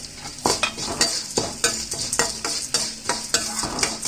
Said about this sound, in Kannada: ಅಕ್ಕಿ, ಧನಿಯಾ, ಆಮೇಲೆ ಜೀರಿಗೆ ಎಲ್ಲ ಹಾಕ್ಕೊಂಡು ಸ್ವಲ್ಪ ಫ್ರೈ ಆಗಲಿ.